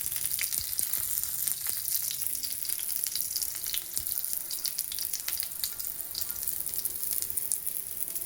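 Leftover chapati frying in oil in a pan: an even, close sizzle that hisses steadily throughout with small crackles and pops and no voices.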